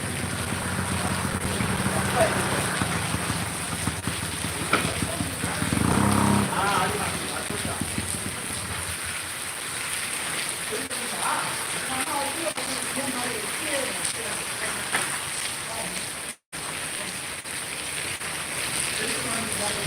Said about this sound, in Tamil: மழை பெஞ்சிட்டு இருக்குது அருமையாக